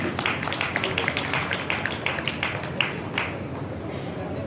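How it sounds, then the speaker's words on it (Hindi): An audience applauds at a book launch for author Surendra Beniwal in Bhadra, with dense, continuous clapping from many hands that holds steady and then tapers off near the end. "जोरदार तालियों से हार्दिक अभिनंदन"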